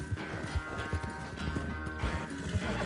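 A horse in the Red Dead Redemption 2 game, hooves thudding in a quick uneven rhythm close by, with rattling and rustling movement sounds around them.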